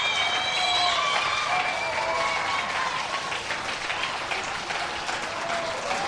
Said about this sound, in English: And the absolute rousing applause for Catherine Mulvihill.